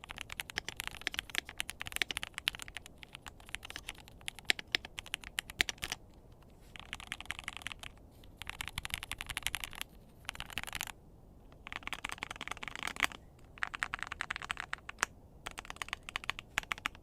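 Rapid clicky typing on a Whitefox Eclipse mechanical keyboard with pre-lubed switches, heard up close in several bursts separated by short pauses, with no voices.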